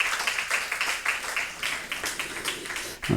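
Applause from a church congregation during a Sunday morning worship service: steady dense clapping that runs the whole time and stays fairly even in loudness, with no voice over it.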